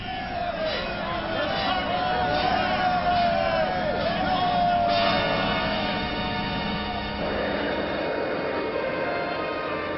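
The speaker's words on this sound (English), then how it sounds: "Even as Chiron's troops cheer their bloodthirsty leader" Chiron's troops in the Robotech Masters animated series cheer their bloodthirsty leader, a dense crowd roar of voices and whoops filling the scene steadily throughout.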